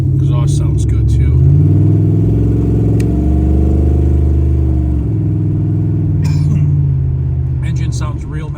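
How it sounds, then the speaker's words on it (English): A 1983 Hurst Olds accelerating while driving: a throaty engine climbs in pitch through a gear, then settles back to a steady drone, with short bursts of a voice over it. "Engine sounds real nice and healthy."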